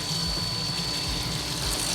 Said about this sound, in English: Just kind of wash it out here, take it apart.